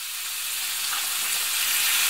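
Steady, close sizzling of canned stewed meat frying in a hot pan, a continuous crackling hiss with no voices.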